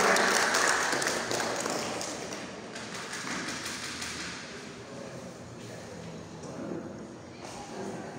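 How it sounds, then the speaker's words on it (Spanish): Applause at a public accountability assembly in a rural parish hall, a dense crowd clapping that starts loud and tapers to a steady softer patter, with some voices mixed in. "Los aplausos."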